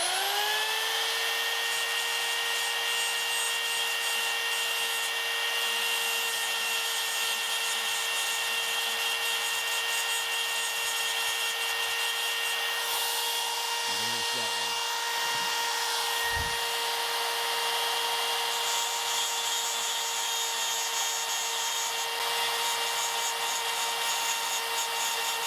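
A grinder working on a part during final assembly of a 1993 Pontiac, a sustained high whine holding steady and loud for the whole stretch, with brief rougher contact scrapes midway and no talk.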